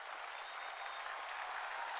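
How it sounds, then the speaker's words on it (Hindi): A huge crowd of tribal students gives a standing ovation, thousands of hands clapping in a continuous, distant-sounding wash that stays fairly faint and even. "स्टैंडिंग ओवेशन देंगे विथ ए बिग क्लैपिंग"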